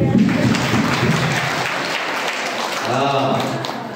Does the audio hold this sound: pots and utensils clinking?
no